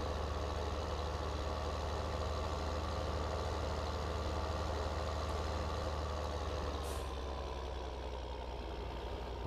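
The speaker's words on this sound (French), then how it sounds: "je laisse le tracteur allumé" A farm tractor's engine idles steadily in Farming Simulator 15, a constant low mechanical drone running without break throughout, with no talking.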